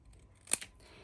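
Scissors snip through a paper calendar page in a couple of quick, crisp, close cuts in a quiet room, followed by a brief rustle.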